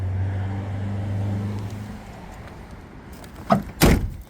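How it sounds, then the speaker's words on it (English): A 1967 Plymouth Belvedere's car door closing near the end: two quick solid thumps close together, after a low idling hum fades out. "Door closes great."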